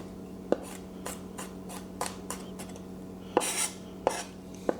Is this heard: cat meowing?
no